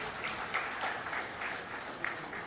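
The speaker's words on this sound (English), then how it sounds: "Let's give them all a round of applause." Audience applause at a conference session, a dense, continuous patter of many hands clapping for the whole short stretch.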